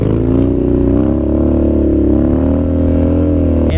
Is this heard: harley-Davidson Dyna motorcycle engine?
yes